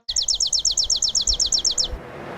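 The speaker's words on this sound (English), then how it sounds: "And this is a chipping sparrow." A male chipping sparrow sings on a recording, a clear, mechanical trill of roughly fifteen sharp chips evenly spaced over two seconds. It then stops and leaves faint background hiss.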